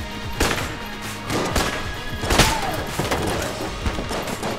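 Gunfire from a weapon in the Enter the Gungeon video game, a few loud, sharp shot bursts spaced unevenly over several seconds, mixed with clattering impacts and game effects.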